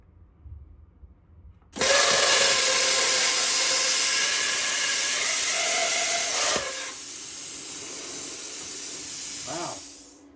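A cheap plasma cutter slices 1/4 inch aluminum with a sudden loud, steady hissing blast that runs several seconds, eases slightly midway and then cuts off, close and dominant.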